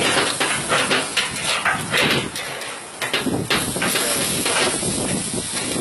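Barbecue meat sizzles loudly in a hot pan after a splash of red wine goes in for slow cooking. Up close, a dense hiss surges and ebbs in rapid pulses as the pan is tossed.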